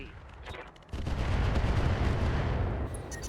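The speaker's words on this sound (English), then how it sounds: "Boar's Head is going to drop additional artillery" Artillery fire in the mech combat game RogueTech, a dense rumbling barrage of booms that swells after the first second and rolls on continuously, with faint voices underneath.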